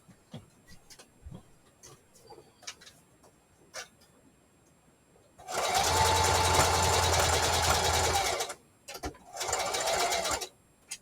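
A sewing machine stitches fabric for a junk journal craft project, running in a steady, close whirring burst of about three seconds, then a shorter run after a pause, with light handling clicks and taps before it.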